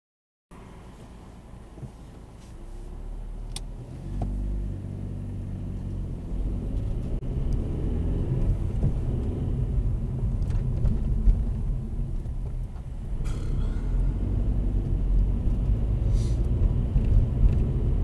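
A car pulls away on a hill start during a UK driving test near Northampton; steady close engine rumble builds and holds under road noise inside the cabin, with no talk.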